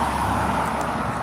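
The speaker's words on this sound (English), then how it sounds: "I'm so sorry about the noise. We're on the main highway" Steady, loud traffic roar from a main highway, a continuous broadband rumble of passing cars and trucks with no pauses.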